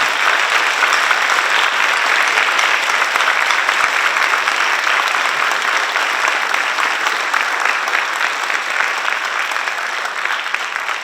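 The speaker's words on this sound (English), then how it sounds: "give them a round of applause that reflects our recognitions of their achievements" A lecture audience breaks into loud, sustained applause, a dense, even wash of clapping from a large crowd that holds steady for the whole stretch and tapers only slightly at the end.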